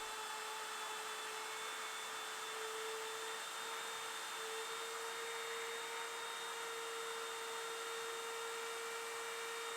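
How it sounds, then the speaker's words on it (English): A steady, loud high-pitched whine of a power router cutting slide slots into hardwood drawer sides runs continuously, with a sustained tonal hum and no pauses or talk. "I needed to cut the slots for the slides into the sides of the drawers with a router"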